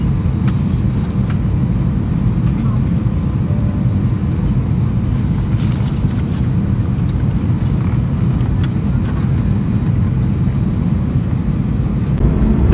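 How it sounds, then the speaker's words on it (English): Steady low cabin roar inside a British Airways Airbus A320neo taking off from runway 27R at London, a dense constant engine rumble with no talk. "This lunchtime flight was in an A320neo, taking off from runway 27R"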